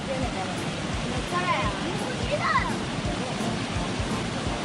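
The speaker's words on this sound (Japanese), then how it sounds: "やっと滝が来たぞ。" A constant broadband rush of falling water from Minoh Falls in Japan fills the air, with faint voices talking underneath.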